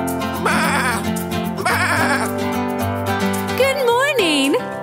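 Sheep bleats sung within a gentle acoustic farm-animal kids' song, a couple of wavering bleats over steady guitar and singing voices, with a voice imitating the sheep's call.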